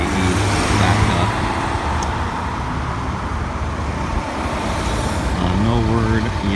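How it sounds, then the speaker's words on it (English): Steady roadway noise from cars and trucks in a traffic backup on SC 170 near Okatie after an accident, a continuous loud rumble with engines idling and creeping, no speech. "there's a bit of a traffic backup in both directions on 170"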